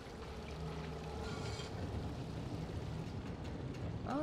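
Water flows steadily with a continuous wash and gurgle in the video game Trine 4, a rushing stream held at a moderate level with a brief splashy burst midway and no talking.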